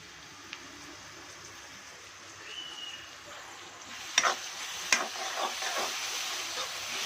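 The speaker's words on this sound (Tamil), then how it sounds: "அரைச்சி வச்ச பூண்டு இஞ்சி பேஸ்ட்டை வந்து போட்டுக்கலாம் நல்லா வறுக்கலாம்" Garlic ginger paste fries in a pan with a soft, continuous sizzle, joined by a few scraping stirs and light clinks of a spoon partway through.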